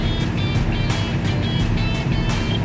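A Komatsu PC200-8 excavator diesel engine runs steadily with a rough, pulsing rumble and rhythmic mechanical knocking, close and continuous with no voices.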